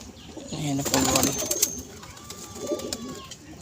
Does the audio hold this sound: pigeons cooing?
yes